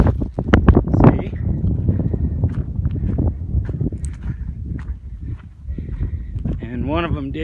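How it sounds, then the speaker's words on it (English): Wind gusts buffet an outdoor rifle range as steady rushing noise with microphone rumble, while someone talks over it throughout and a few soft thumps and knocks sound nearby. "There's pretty decent wind out here."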